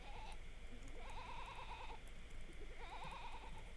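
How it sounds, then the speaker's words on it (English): A goat bleats twice in wavering, quavering calls against a steady hum and background noise, fairly faint and without talk. "May I introduce Jolly, the smartest goat in the world?"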